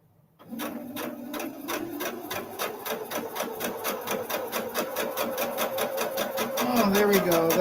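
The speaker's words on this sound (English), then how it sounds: "We'll see if I can sew a straight line." A sewing machine runs a straight line, starting up and stitching with a rapid, regular needle rhythm that grows louder and quicker toward the end, close and clear.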